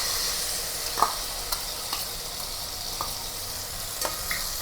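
Green paste for vegetable dum biryani fries in a pan with a steady, close sizzle, broken by a few soft stirring scrapes and taps spread through the stretch, with no voices.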